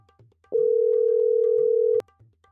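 A steady electronic phone tone rings out loud and unbroken for about a second and a half while a call is placed, with faint cartoon-style sounds before and after and no one talking over it.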